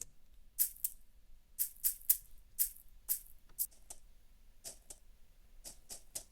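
Dry shaker percussion loop for a lo-fi beat, heard before any tape coloring, a crisp run of bright rattling strokes in clusters with quiet gaps, close and clean.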